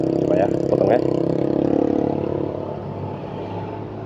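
A loud motorcycle with a modified, rattly aftermarket exhaust revs and clatters close by in busy traffic, then fades as it pulls away, with a rider talking over it.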